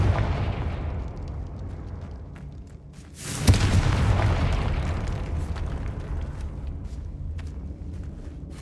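A Confringo fire spell from Hogwarts Legacy bursts with a sudden loud blast about a third of the way in, followed by a long, dense roaring rumble that slowly fades.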